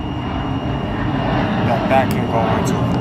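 Airplane flying over a house, a loud steady engine drone filling the background throughout, with someone talking over it.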